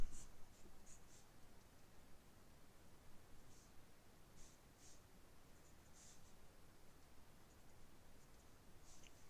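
Chalk or marker writing on a lecture board during a complex variables class, faint scratchy strokes and small ticks coming in short bursts over quiet room hiss.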